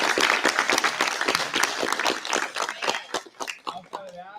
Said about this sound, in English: So real quick round of applause for them.